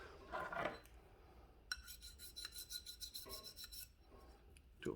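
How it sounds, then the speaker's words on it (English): Vine snips being sharpened with knife sharpening equipment: close, repeated scraping rasps of steel, a few long strokes and then a quicker series of short ones, with no voices. "I've got to sharpen up the snips"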